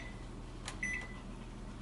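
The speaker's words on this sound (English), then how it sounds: "we have a setting on our microwave, like I was saying, that lets you soften butter for how many sticks" A kitchen microwave oven running on its butter-softening setting for two sticks of butter: a steady low hum with a few brief electronic beeps near the middle, close and fairly quiet, no talk.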